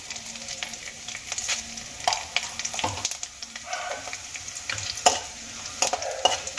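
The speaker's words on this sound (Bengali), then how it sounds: "এই সমস্ত উপকরণগুলো আমি হালকা লাল করে ভেজে নেব" Dried red chilli pieces, bay leaves and whole cumin seeds frying in hot oil, a constant sizzle broken by irregular scrapes and clinks of a spatula stirring in the pan, close and fairly loud with no talk.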